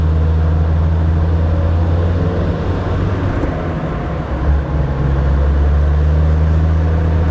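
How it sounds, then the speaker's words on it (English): A tuned Land Rover Defender Td5 90 diesel with a Falcon hybrid turbo idles steadily while warming up, a loud, close, even drone with a deep hum that holds throughout, with no voices. "we're just going to bring the temperature up of the engine"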